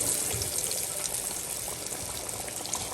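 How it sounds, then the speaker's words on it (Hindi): Pieces of crispy fish slide into hot frying oil over a low flame, giving a dense, even hiss of bubbling oil that holds steady throughout. "तो ये देखें, यहाँ पे हम अपनी फिश डालना स्टार्ट करते हैं।"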